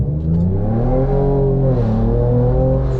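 A Ford Raptor's engine revs hard through a Euro Arts adjustable exhaust, giving a loud, deep, steady roar whose harmonics sweep up and down across about three seconds, with no talking over it.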